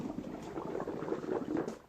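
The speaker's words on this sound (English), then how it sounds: "you're going to hear some bubbles coming, going into the hydration system" Water blown back through a hydration system tube bubbles and gurgles in a soft, steady patter, close and fairly quiet, with no talking.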